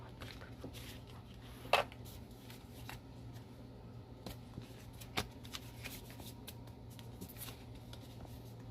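Tarot cards being shuffled by hand, a soft, quiet papery rustle with one sharper snap of the deck over a steady low hum.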